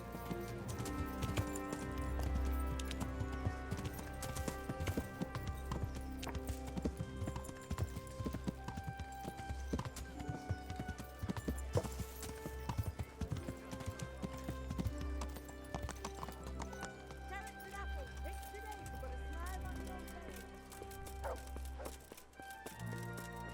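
Horse hooves clip-clopping in the video game Kingdom Come: Deliverance, a steady rhythmic trot under a continuous bed of game music and ambience, with an occasional whinny.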